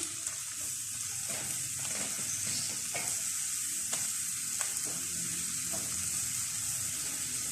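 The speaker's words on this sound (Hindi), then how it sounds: "चिकन को हल्का सा फ्राई कर लेते हैं।" Chicken frying in a pan for palak gosht, a continuous hissing sizzle with repeated stirring scrapes and clicks, close and even throughout with no speech.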